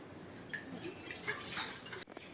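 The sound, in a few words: water running while washing a glass bowl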